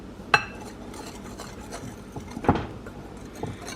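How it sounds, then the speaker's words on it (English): Dry muffin ingredients with cinnamon being whisked in a bowl, soft rubbing and stirring with a couple of sharp clinks of the whisk against the bowl, close and fairly quiet. "I went ahead and measured out our dry ingredients, and we're just going to whisk this together."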